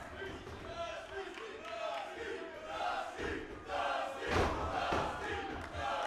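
Wrestling crowd cheering and chanting loudly during a Dusty Rhodes tribute at an independent PPW show, a rolling roar of voices that surges in waves, with heavy thumps from the ring near the end.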